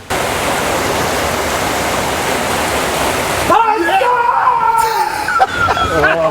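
A pond waterfall pours steadily in a loud, constant rush for about three and a half seconds, then cuts off, and people talk over quieter outdoor sound.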